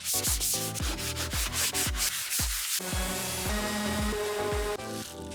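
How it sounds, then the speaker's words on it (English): Wooden pieces for floating corner shelves are hand-sanded with 120-grit paper: a steady run of about a dozen brisk, close, scratchy rubbing strokes in an even back-and-forth rhythm, with no talking. "The next step is to sand everything down with RIT 120, or you can use an orbit sander"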